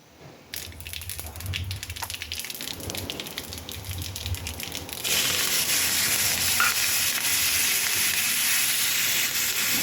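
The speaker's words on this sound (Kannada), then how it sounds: "ಈಗ ಒಂದು ಬಾಣಲೆಗೆ ಎಣ್ಣೆ ಇಟ್ಬಿಟ್ಟು ಸಾಸಿವೆ, ಇಂಗು ಹಾಕ್ತಾಯಿದ್ದೀನಿ." Mustard seeds and asafoetida sizzling in hot oil in a pan, a steady crackling hiss that grows noticeably louder and denser midway through, with no talking.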